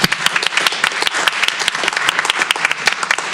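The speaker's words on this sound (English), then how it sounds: "can we have you stand up and give her a round of applause?" A board meeting audience applauds in a burst of dense, loud clapping that keeps going without a break and carries no voices.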